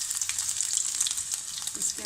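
Sliced ginger hitting hot ghee in a pan sets off a bright, continuous sizzle that stays even and fairly soft for the whole moment, with no talking over it.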